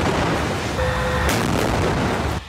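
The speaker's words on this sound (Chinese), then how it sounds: "以军坦克不断发射炮弹轰炸哈马斯据点" Israeli tank cannon firing shells at Hamas positions: a sharp, heavy blast strikes midway through a constant roar of combat noise, with the din cutting off abruptly near the end.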